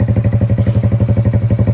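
Yuki Gusto 130cc scooter with a loud aftermarket exhaust idling nearby, a steady rapid low thumping putter with a slight metallic clatter, alone with no talk.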